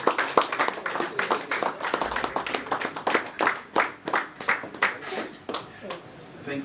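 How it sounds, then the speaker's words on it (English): Audience clapping at an induction ceremony, a fairly close, uneven run of individual handclaps that thin into scattered claps toward the end, with voices mixed in. "Please, can we do that round of applause once again?"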